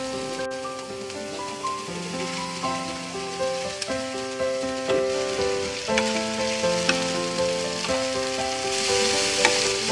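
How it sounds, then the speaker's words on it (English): Hong Kong–style noodles fry in butter with a steady, close sizzle and crackle, punctuated by rhythmic stirring that swells every second or so, while music plays underneath. "After a few seconds, let's add the bunch of noodles."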